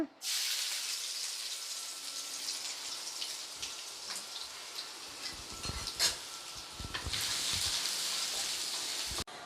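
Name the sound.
chopped ginger and garlic frying in hot oil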